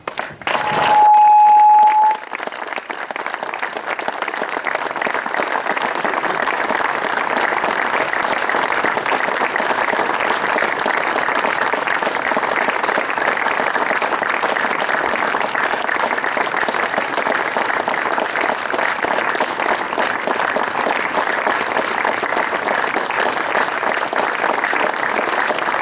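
Loud, sustained applause from a large audience at a rugby club's season squad presentation, a dense continuous roar of clapping that holds steady for the whole stretch after a sharp opening burst.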